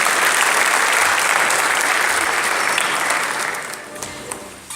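Loud, dense applause from a large crowd at the opening session of a pharmaceutical expo, steady at first and then thinning out toward the end, with a few scattered claps lingering.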